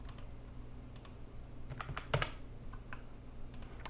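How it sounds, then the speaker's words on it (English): Someone types on a computer keyboard while setting a reef aquarium salt dosing recipe, producing scattered soft key clicks in short bursts over steady room hum, with no talking. "I'm going to go ahead and type that in."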